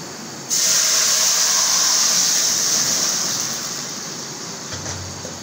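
Masoor dal poured into hot oil with reddened fried onions: a sudden loud burst of hissing sizzle and steam that holds strongly for a few seconds, then slowly eases into a quieter steady crackle.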